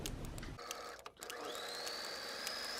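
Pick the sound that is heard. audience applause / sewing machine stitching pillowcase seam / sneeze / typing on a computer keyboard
sewing machine stitching pillowcase seam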